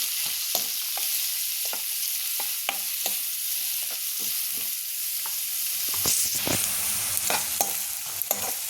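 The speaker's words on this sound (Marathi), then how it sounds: "आता हे कांदे आपले तेलावर आपल्याला छान फ्राय करून घ्यायचे" Finely chopped onions fry in hot oil in a pan for palak paneer, making a continuous close sizzle broken by frequent scraping stirs of a spoon.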